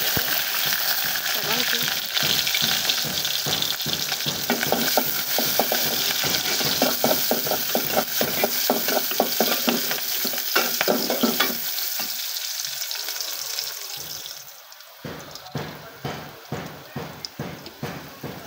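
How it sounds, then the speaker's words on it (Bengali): Onion and green chillies sizzle and crackle in hot oil in a home kitchen, a loud steady frying hiss with rapid popping and stirring scrapes throughout, quieting briefly near the end before the spatter resumes. "তেল গরম হয়ে গেছে, এখন এর মধ্যে আমি পেঁয়াজ কাঁচামরিচ দিয়ে দেবো।"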